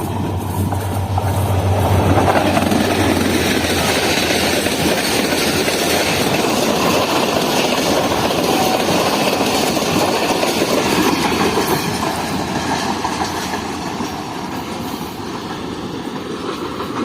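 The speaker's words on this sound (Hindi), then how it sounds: "10:35 पर हमारे सामने जा रही है 150 डाउन मेहरान एक्सप्रेस।" A long Mehran Express passenger train (150 Down) rolls past at close range, a steady loud rumble of wheels and cars with rhythmic clatter, sustained throughout and easing slightly toward the end.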